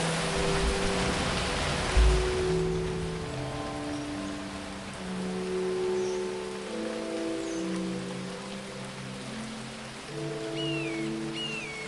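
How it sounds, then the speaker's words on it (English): Rain falls in the video game Phoning Home as a dense, constant hiss that is heavy at first and then eases, with sustained musical tones held underneath. "The rain is coming from very small clouds, as if the planet is sucking the water out of them."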